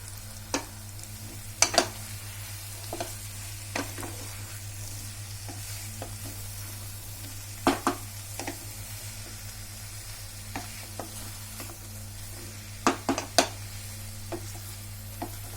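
Okra and onion sabji sizzling steadily in a pan over low heat, a continuous soft frying hiss broken by scattered sharp clinks of a spoon stirring against the metal, close, no talk.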